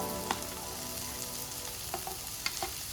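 Chopped onion frying with ginger and chilli in hot oil, a steady soft sizzle with a few light stirring clicks, close by and fairly quiet.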